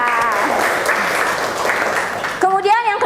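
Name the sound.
classroom applause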